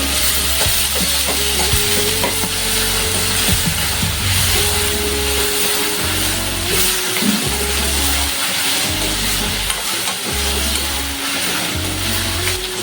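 Capsicum with chopped tomato and coriander stir-fries in oil, a loud constant sizzle with clanking spoon stirs and a low rumble coming and going underneath, no voices.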